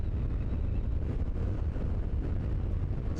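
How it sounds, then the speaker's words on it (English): Strong wind buffets the microphone during a motorcycle ride in Oregon, a continuous loud roaring rumble with no break and no voice heard. "this wind is something else"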